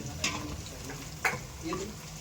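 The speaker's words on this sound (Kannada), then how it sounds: "ಅದು ಎಣ್ಣೆಲಿ ಚೆನ್ನಾಗಿ ಫ್ರೈ ಆಗೋ ಥರ ಮಾಡ್ಕೋಬೇಕು ನೀಟಾಗಿ ಸ್ವಲ್ಪ ಸೌಟ್ ಆಡ್ಸೋಣ" Curry leaves and onion frying in oil in a pan while a ladle stirs them, giving a steady close sizzle broken by a few sharp scraping clinks of the ladle, with no talking.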